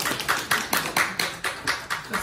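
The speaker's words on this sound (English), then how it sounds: "let's give Helen applause" A small group at a club meeting claps together in a brisk, regular rhythm, with crisp, close hand slaps about four times a second and no speech over them.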